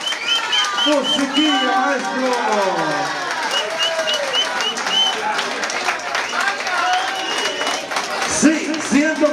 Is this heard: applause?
yes